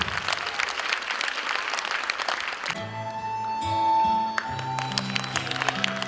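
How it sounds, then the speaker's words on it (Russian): Applause from a concert audience at a Mother's Day show rings out loudly for about three seconds, then gives way to music as a performer is welcomed on stage. "Встречаем бурными аплодисментами."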